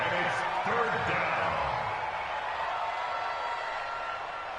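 Crowd noise from a PS4 American football video game swells in a steady, broadband roar during a late fourth-quarter third-down play, loud throughout and tapering slightly, with commentary-like voices mixed in.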